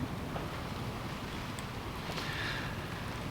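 Wind rushes and buffets against the microphone in a steady outdoor roar, with no voices.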